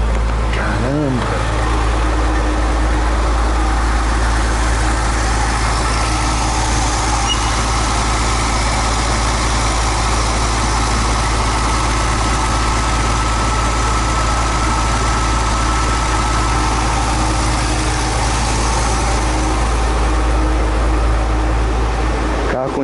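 Porsche engine idling smoothly, a steady deep hum held for over twenty seconds with little change, while someone talks over it.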